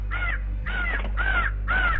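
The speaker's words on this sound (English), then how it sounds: "a crow on the roof, cawing like it's got something to say" A crow perched on a house roof caws four times in a steady, evenly spaced series, loud and close over a low background hum, with no one talking.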